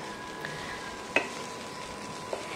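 Green banana kofta curry masala frying in a pan, a soft continuous sizzle with a few faint clinks of stirring, close and quiet.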